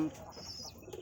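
A Kalchira Madras high-flyer pigeon gives a brief, soft coo up close, with faint chirping from other birds in the background and no clear talk.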